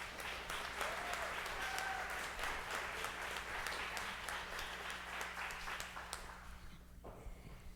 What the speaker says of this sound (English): Let's give Professor Judaken a nice round of applause